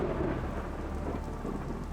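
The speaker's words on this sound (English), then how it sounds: "Suddenly, a loud thunder was heard, and Jack and the merchant were frightened." A loud rumble of thunder rolls through a bedtime story, layered over steady rain hissing on a surface. It is dense and continuous, with no voices.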